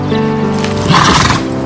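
A horse neighs loudly and close by in a single drawn-out whinny lasting well over a second, with faint hoof movement beneath it.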